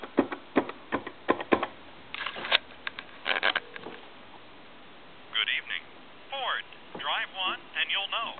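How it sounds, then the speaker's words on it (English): A Snoopy novelty telephone on a regular phone line is dialed, giving a series of quick, sharp clicks in bursts, with someone talking in between and afterward. "And we're going to dial, say, a time and temp number."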